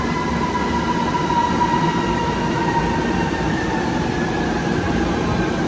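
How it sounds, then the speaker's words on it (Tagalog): MRT train rolling through Manila, a steady loud rumble of wheels and carriage noise with faint high whining tones, continuous throughout with no talk. "That's a train."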